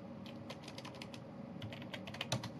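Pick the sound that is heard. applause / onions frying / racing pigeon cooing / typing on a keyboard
typing on a keyboard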